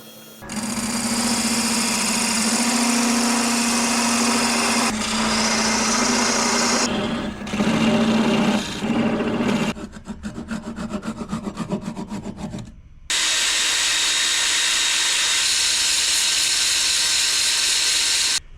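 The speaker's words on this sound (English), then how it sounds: "What we're gonna do is have it around 800 RPM, just light pressure, even, let that heat build up on the rag" A wood lathe spins at about 800 RPM while a rag buffs Tung wax into an elm piece under light, even pressure, producing a loud continuous rubbing whir that shifts in pitch and texture across several passes with brief pauses.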